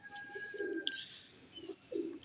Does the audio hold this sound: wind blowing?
no